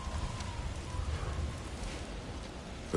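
Steady storm rain hissing and pattering in God of War Ragnarök, a dense continuous wash of drops with a low rumble underneath, faint voices briefly beneath it.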